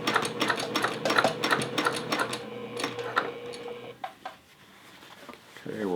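A sewing machine stitches a jeans hem with a fast, rhythmic clatter, slowing as it climbs over a thick seam, then stopping. A few soft knocks follow before the motor briefly starts up again at the end.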